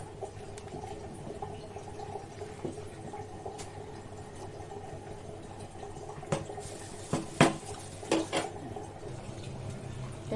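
Plain rice simmering in a pot of water is stirred, a steady low bubbling broken near the end by a few sharp scraping knocks from the stirring.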